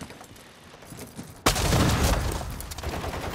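Modern Warfare 2 gunfire erupts abruptly after a quieter stretch of game ambience, becoming a loud, sustained volley of close shots with booming impacts that trail off slightly toward the end.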